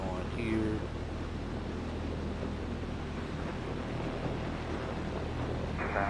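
Steady broadband drone of an aircraft engine idling and warming up on the ground in a flight simulator near Denver, constant and fairly loud, with a voice talking briefly.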